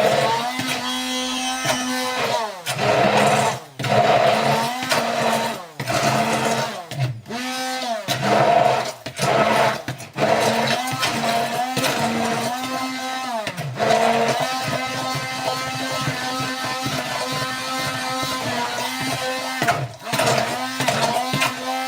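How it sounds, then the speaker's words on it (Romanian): Handheld blender whirring in bursts as it chops eggplant, onion and garlic, a steady motor drone with brief pauses and pitch changes as the blade works through the vegetables. "Acum eu iau blenderul și îl fac"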